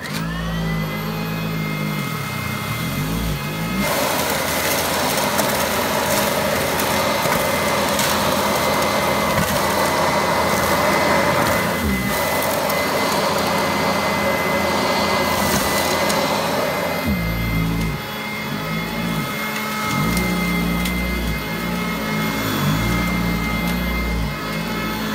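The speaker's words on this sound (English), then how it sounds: "So we're going to use this monster of an Electrolux sanitaire to vacuum it up." An Electrolux Sanitaire upright vacuum cleaner runs loud and steady for the whole stretch, its motor whine holding constant with brief dips in pitch as it is pushed around, and no one speaks.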